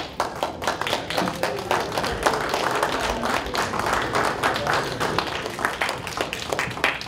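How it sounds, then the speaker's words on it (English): An audience claps steadily for poetry students on stage at a regional recitation event, with dense, continuous hand claps at an even level and no talking over it. "big round of applause"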